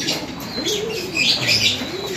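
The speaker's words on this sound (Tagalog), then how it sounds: "Ito yung mga ibon natin, no?" Racing pigeons in a loft cooing with low, wavering calls alongside brief wing flaps and faint chirps, close and moderately loud without talk.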